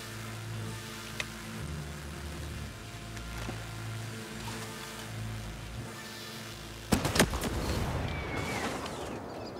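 A single sharp gunshot cracks out late in the clip in the video game Ghost Recon Breakpoint, followed by a rumbling tail, after a stretch of low steady background noise.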